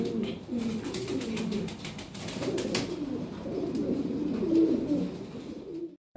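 Fancy pigeons coo in soft, low, rolling calls close by, a few birds overlapping against a faint background, with no talk.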